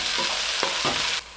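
Shrimp seasoned with salt and fresh ground pepper tossed and stirred in a hot pan, a steady close sizzle broken by a few quick scraping stirs before the frying noise drops away near the end.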